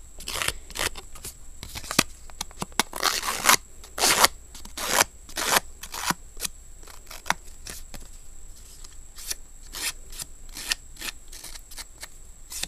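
Handmade paper card edges being distressed with a tool, a series of sharp, rapid scraping and snipping strokes in bursts, close and fairly loud, with no talking.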